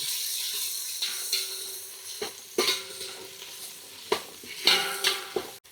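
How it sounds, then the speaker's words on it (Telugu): Ginger garlic paste sizzles and fries in a pan with onions for pesarapappu kichidi, with several clear spoon scrapes and stirring knocks against the pan over a steady frying hiss; no talking. "ఇప్పుడు అల్లం చిన్నులపాయ పేస్ట్ వేసేసుకుందాం. ఇది కూడా పచ్చివాసన పోయే వరకు వేగనిద్దాము."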